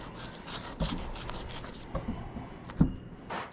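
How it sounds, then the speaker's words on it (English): While a black drum is filleted, a knife rubs and scrapes along its backbone in short, soft rasping strokes, close but fairly quiet, with small clicks where the blade catches bone and no talk. "just kind of fillet down the backbone, and you just want to rub your knife against the bones like so"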